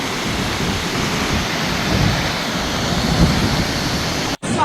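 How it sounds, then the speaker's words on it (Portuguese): Heavy, steady rain pours down during a long storm in Rio Grande do Sul near the Taquari River, a loud, dense, continuous roar of falling water that cuts off abruptly near the end. "Continua chovendo praticamente desde sábado de tarde sem parar."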